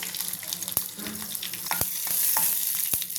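Mustard seeds, cumin, urad dal and dried red chillies frying in hot oil for a tempering, a close continuous crackling sizzle with sharp pops scattered throughout.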